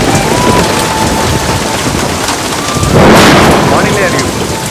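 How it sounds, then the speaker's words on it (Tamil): A loud, heavy downpour roars continuously, and a rumble of thunder swells around the middle before the rain carries on at full strength. "கனமழை இன்னும் நீடிக்கும்"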